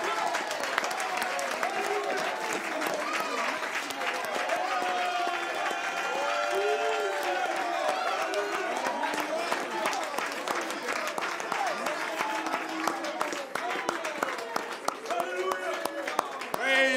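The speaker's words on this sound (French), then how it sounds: "Oh, donnez une acclamation, Seigneur." A church congregation applauding and cheering at a lively service, with a steady dense wash of clapping and crowd voices filling the whole stretch, mixed with shouting and excited vocal sounds throughout.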